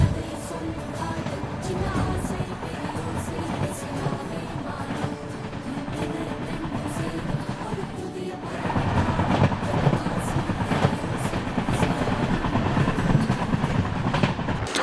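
Interior of the UDAY Express train running from Bangalore to Coimbatore, a loud, continuous rumble of carriage and wheels on rails with faint rhythmic clatter, growing heavier partway through.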